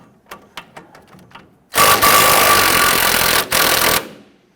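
Ratchet wrench with an 18mm socket loosening the sway-bar end link on a 2005-2021 Nissan Frontier during front shock replacement: a few sharp clicks, then a loud, steady buzzing ratchet run of about two seconds, close by.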